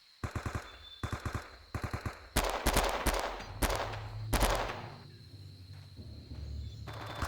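Video game gunfire in Men of Valor during a Vietnam tunnel mission: short bursts of rapid automatic fire, then heavier, overlapping shots and echoing blasts, fading to quieter ambience.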